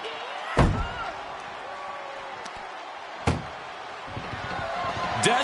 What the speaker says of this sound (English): Desperately trying to close the first of two doors.